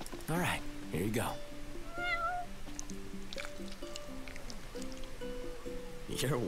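Several short cat meows from Final Fantasy XV repeat against a soft, steady backdrop of game music, with one more meow rising near the end.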